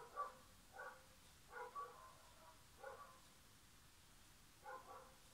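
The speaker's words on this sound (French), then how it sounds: "C'est les chiens, j'ai des chiens." Dogs bark in short bursts, several spaced-out yips and woofs at a moderate distance over a quiet background, with no talking.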